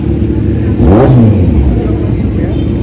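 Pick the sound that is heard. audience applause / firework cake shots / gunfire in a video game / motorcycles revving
motorcycles revving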